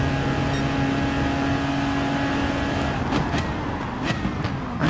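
A race car engine droning at a steady high pitch in GT Sport at Interlagos while running in another car's slipstream, loud and continuous, shifting briefly near the end, with no voices.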